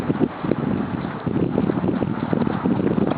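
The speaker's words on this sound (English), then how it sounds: "There's the wind." Wind sweeping across a snowy winter storage lot after a 24-inch blizzard, a steady, loud, rumbling gusty roar buffeting the microphone throughout with no talk.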